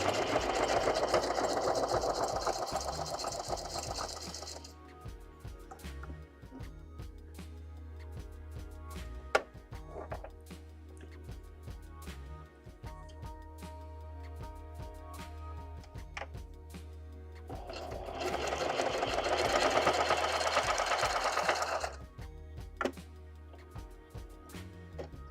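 A sewing machine stitches junk journal pages in steady bursts, its needle chattering evenly at close range with quiet pauses between runs.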